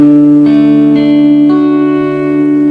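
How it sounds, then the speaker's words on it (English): Guitar strings plucked one after another for a song, each note joining a sustained, ringing tone that layers into a full, slightly processed chord. "So just have a go at plucking those strings again."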